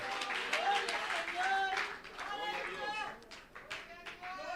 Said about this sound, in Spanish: Dele una alabanza y un aplauso a Cristo Jesús.